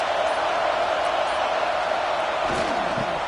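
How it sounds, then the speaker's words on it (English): Loud, steady roar of a college football stadium crowd at a Huskers game, cheering on the defense near the goal line; the dense crowd noise fills the whole stretch without letup. "Listen to this crowd just shaking the girders of this place trying to help their defense."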